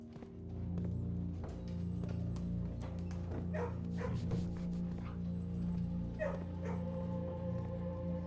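Dogs barking, yipping and whimpering in a kennel room in the video game Blue Prince, repeated yaps over a steady droning ambient backdrop, moderately close and continuous throughout.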